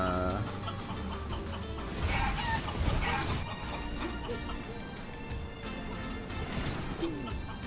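Chickens cluck and a rooster crows inside the video game Guacamelee 2, mixed into a dense, loud, steady layer of game music and effects that runs throughout.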